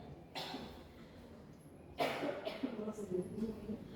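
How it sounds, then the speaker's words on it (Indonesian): A few short, dry coughs from an adult speaker, one early and a louder burst about halfway, followed by speech, close to the microphone at low overall level. "maaf ya, saya lagi batuk-batuk."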